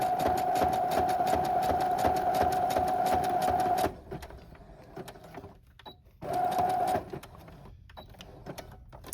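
A sewing machine stitches pockets for a commissioned journal, its steady rapid mechanical whir running for about four seconds, stopping, then starting again in a shorter burst, with quiet handling noises in the pauses.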